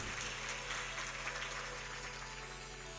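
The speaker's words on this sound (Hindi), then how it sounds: "तालियां बजाइए" Steady applause from an audience at a Ram Katha religious discourse in Shamashabad, Agra, a dense continuous patter of clapping held at an even, moderate level.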